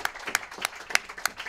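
A small group claps in loose, sparse bursts at a small jazz quintet performance, a few distinct hand claps standing out over a light ongoing patter.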